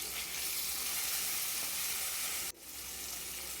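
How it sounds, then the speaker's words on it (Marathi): Turmeric and raw tomato puree sizzle vigorously in hot oil with a dense, steady hiss close by, briefly dipping before the frying roar resumes. "हळद आणि कच्च्या टमाट्याची प्युरी केलेली तेलामध्ये छान परतू द्यायचं"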